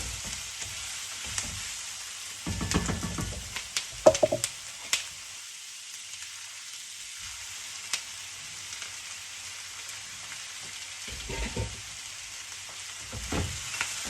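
Broccoli stir-fries over high heat in a wok with vegetables and seafood, giving a soft background sizzle broken by louder bursts of hissing and clattering as the pan contents are tossed and stirred.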